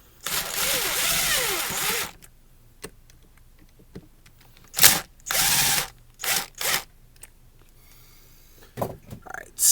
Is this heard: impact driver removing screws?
yes